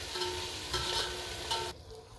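Onions fry in a pan with rock salt for chicken dum biryani. A faint, steady sizzle with light stirring noises plays, then cuts out abruptly near the end.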